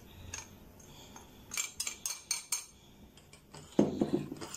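Rice flour and dry milk are whisked into milk in a pot, giving a series of quiet clinks and scrapes of a utensil against the metal pan, irregular and close, with a louder burst of stirring near the end.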